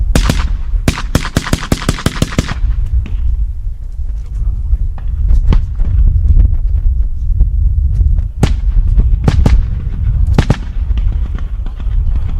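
Gunfire on a battlefield involving the Rwanda Defence Force, with rapid bursts of automatic fire up front, then scattered loud single shots and short bursts over a constant low rumble.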